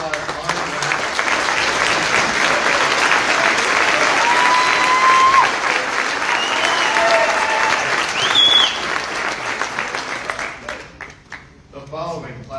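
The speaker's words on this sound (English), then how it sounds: "please give a round of applause for the Class 22-025 Honor Graduates" Sustained applause from a ceremony crowd honoring military intelligence honor graduates at an Army training battalion graduation, steady and dense throughout before thinning and fading out near the end, with a few whistles rising above.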